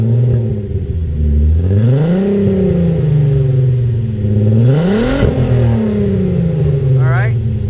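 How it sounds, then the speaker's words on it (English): A Volkswagen Mk4 VR6 with a fat cherry bomb muffler revs loudly up close, its exhaust note swelling and falling in a few long sweeping rises, with voices talking over it. "Go ahead and rev it."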